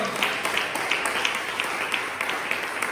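A church congregation gives applause to the Lord: steady, dense clapping from many hands fills the room at moderate volume, with no voices heard.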